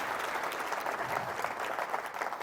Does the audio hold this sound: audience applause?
yes